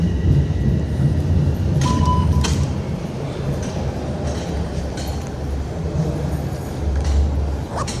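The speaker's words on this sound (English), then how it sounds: "there's the northbound train, which I just missed" A northbound train rolls past on Queen Street West in downtown Toronto, a steady, heavy rumble with scattered metallic clanks and brief squeals holding loud and close throughout.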